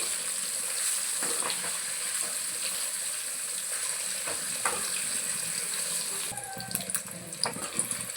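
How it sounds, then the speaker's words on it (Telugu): Paneer cubes deep frying in hot oil, a steady broadband sizzle and crackle with a few sharper pops, continuous throughout and growing busier near the end. "పన్నీర్ ముక్కలను అయితే డీప్ ఫ్రై చేయాలి కొంచెం ఒక టూ మినిట్స్ అయితే డీప్ ఫ్రై చేసుకోవాలి"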